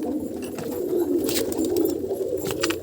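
A pigeon chick kept in a box gives a steady, low murmuring coo that runs unbroken and fairly close throughout, with no voices over it.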